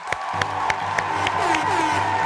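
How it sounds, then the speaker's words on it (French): A studio audience claps and cheers, with a few sharp claps standing out over a steady crowd roar and a whoop or two. The hum carries on underneath. "On applaudit, voilà."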